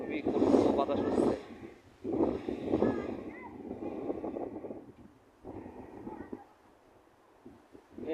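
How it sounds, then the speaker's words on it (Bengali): Strong gusting wind buffets the microphone outdoors before a possible rainstorm near a farm enclosure, loud roaring bursts rising and falling, with a person talking over it. "খুবই কঠিন বাতাস হচ্ছে"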